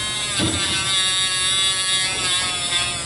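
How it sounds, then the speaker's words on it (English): A rotary tool with a polishing bit runs up and down the feed ramp of a new stainless steel pistol, giving a steady, close, high-pitched motorized whine and buzz that holds throughout with slight shifts in pitch. "Just basically running at the full length of the bit up and down the feed ramp, and it's polishing up real nice"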